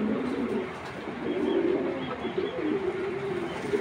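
A pair of khaki-throated pigeons kept for sale: soft, low, repeated cooing runs through the clip, fairly close but quiet.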